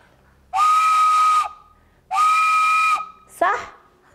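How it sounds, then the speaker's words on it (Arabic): A toy train whistle gives two long, steady, close hoots, each about a second, followed by a short breathy wavering toot, loud and clear. "صح، هذا صوت القطار."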